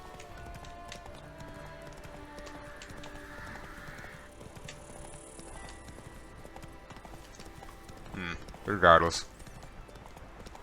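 Horse hooves clip-clop at a steady gallop in The Witcher 3 video game, a continuous rhythmic beat under a voice and game music, with a louder burst of sound near the end.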